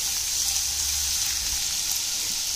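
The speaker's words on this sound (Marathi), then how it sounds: "लसूण परतून घेऊया।" Two spoonfuls of crushed garlic sauté in hot oil in a pan, giving a loud, steady, close sizzle with no talking over it.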